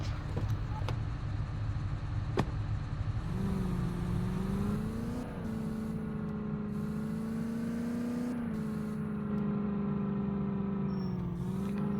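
A Scorpio SUV's engine drones steadily in a video game, its pitch rising and dipping as it accelerates and eases off, with a few small clicks early on and no speech.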